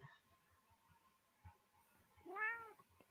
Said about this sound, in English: Kitty's on the back of the lounge, I take it.